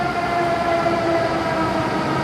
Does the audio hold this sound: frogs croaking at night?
no